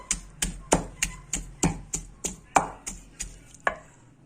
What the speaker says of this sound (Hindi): इसको भी मैं इसी तरह मैश कर लूँगी